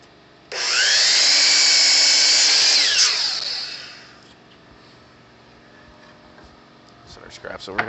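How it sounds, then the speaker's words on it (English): A miter saw cuts pallet wood at a 30-degree angle, its motor whining up loudly, holding a steady high scream through the cut for about three seconds, then spinning down and fading, followed by faint clatter. "I'm gonna go over to the miter saw, start cutting some of these and bring them back"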